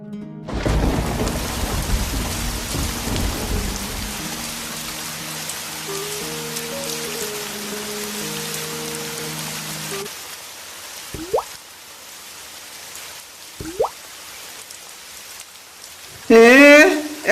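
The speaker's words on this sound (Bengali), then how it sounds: "এখনো তো বৃষ্টি থামলো না।" Steady, loud rain pours throughout an animated Bangla fairy-tale cartoon about a cobbler, with soft music tones under it for the first ten seconds and a few brief cartoon sound effects toward the end.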